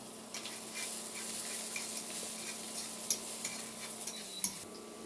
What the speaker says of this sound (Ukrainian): Тим часом вливаю олію і підсмажую цибулину.